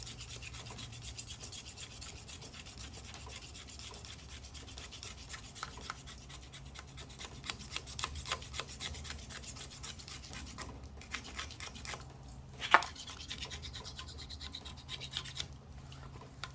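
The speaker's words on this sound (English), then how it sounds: "This razor blade isn't very sharp. I'm just gently scratching it" A dull razor blade gently scraping the grip area of an XR250 motorcycle handlebar, a steady close rasping rub that runs on quietly throughout with one brief sharper scrape near the end.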